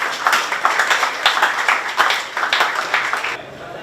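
An audience at a book launch in London claps steadily for Irfan Karim, a moderate, even patter of many hands that stops abruptly near the end.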